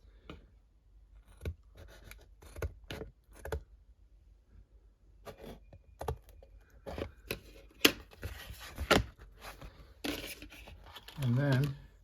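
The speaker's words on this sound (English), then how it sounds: "Sometimes you can just take a pair of scissors. I'm going to cut a little on the inside" Scissors snip through paper for a model railroad yard office, a series of crisp separate cuts at irregular intervals with rustling paper handling in between, quiet and close, and a voice talking intermittently.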